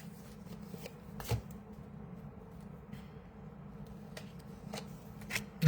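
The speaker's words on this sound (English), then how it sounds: "I'm going to pull some cards for you as a group for the next week" Reading cards being shuffled, a soft, steady riffling and sliding close by over a faint background hum, with a few sharper taps and one louder knock near the end.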